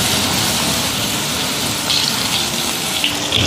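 Starch-coated eggplant pieces deep-fry in a wok of hot oil, giving a loud, steady hissing sizzle with small crackling flare-ups and no talk.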